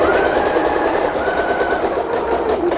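Close, steady hum of a sewing machine running a narrow seam through tulle, continuous and even for a few seconds with no voices.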